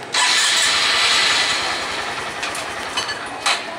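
A Honda MSX motorcycle engine started by remote starter catches and settles into a loud, steady idle with a rapid low pulse, close by, and a couple of brief bumps near the end.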